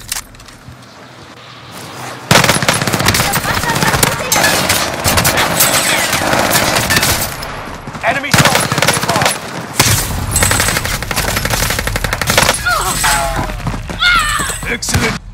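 Dense automatic and rapid gunfire from a video game battle, loud and continuous for most of the stretch after a quieter opening, with bursts, impacts and clattering effects layered together.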